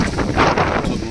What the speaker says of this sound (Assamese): টাববোৰ বতাহত ইমান জোৰ বতাহ, টাব পৰি গৈছে